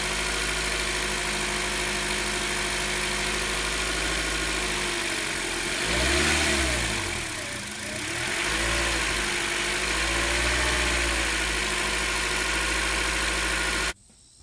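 Car engine held at raised revs with the gas pedal down during a 3M fuel system cleaning, a steady loud drone that dips and swells around the middle before cutting off sharply at the end.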